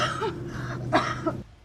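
A woman coughs hard several times in a quick, close burst, short harsh bursts ending abruptly in near silence.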